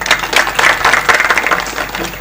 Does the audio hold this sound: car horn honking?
no